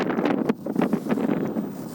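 A hurricane-force wind gusting up to 25 metres per second blasts across the high shore at Anapa, a loud, unbroken rumbling roar with repeated gust surges hitting the microphone.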